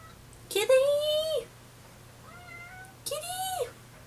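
A cat meows twice, with a softer, shorter mew between them, close by against a quiet background hum.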